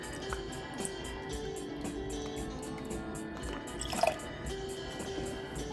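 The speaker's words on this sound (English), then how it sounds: "We need to add 1 tablespoon of Worcestershire sauce." Tablespoon of Worcestershire sauce poured into homemade BBQ sauce, heard as soft close drips and liquid splashes over steady background noise, with one brief louder splash near the end and no talking.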